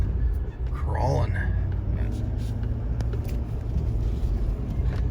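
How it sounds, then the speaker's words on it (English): Heavy 2019 Ford F-450 Limited pickup crawling slowly over bumpy ground up to a dump while towing a heavy load, with a steady low engine rumble and road noise throughout and someone talking over it. "Ugh, it's bumpy in here going up to this dump. Crawling."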